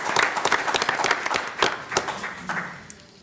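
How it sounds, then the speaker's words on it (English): A room at a Schaumburg village board meeting breaks into brief applause for a firefighters golf outing winning team, a dense burst of clapping that tapers off within a few seconds. "So we give a round of applause for that as well."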